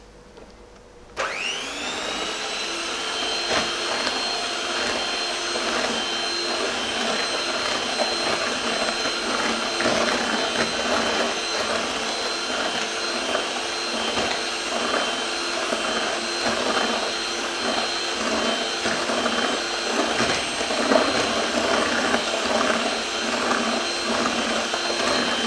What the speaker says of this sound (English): And I'm going to whisk it for about a minute or so.